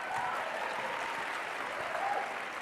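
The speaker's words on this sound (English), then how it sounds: "Another round of applause." A crowd claps steadily in continuous applause, a dense, even patter of many hands heard from a little distance.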